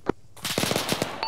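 Rapid automatic gunfire in Arma on Chernarus, a single sharp shot followed by a quick burst of several rounds, loud and close, with no voices.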